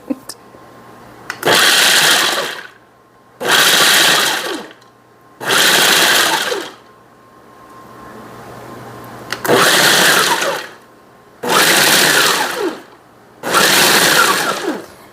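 Pecans chopped in a food processor in short loud whirring pulses, six bursts of about a second each separated by quiet gaps with a low hum between.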